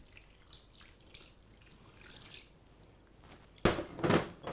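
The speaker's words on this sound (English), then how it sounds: "So now we pour in about a mugful of red wine." Red wine poured from a mug into a lamb tagine with apricots: after a quiet stretch, a sudden close splashing pour of liquid, loud and continuous for about a second before easing.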